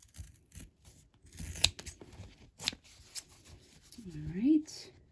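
Scissors snip away scrap fabric and mesh cutaway stabilizer around a machine-embroidered mermaid tail bookmark, a few soft close cuts and rustles, with someone speaking over them.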